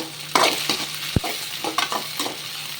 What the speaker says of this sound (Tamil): இந்த வெங்காயம் வந்து நல்லா ஃப்ரை ஆகணும் இங்கே பாருங்கள் இந்த ஸ்டேஜில் நான் கருவேப்பிலை ஆட் பண்ணுறேன்